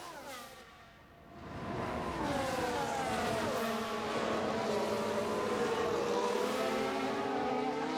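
Aston Martin Formula 1 car in the F1 Manager 2022 racing game at Bahrain, engine whine rising and sweeping in pitch as it overtakes, loud and steady with other cars droning alongside after a brief dip.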